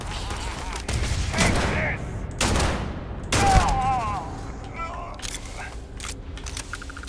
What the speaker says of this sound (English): Okay, so you're shooting up this way.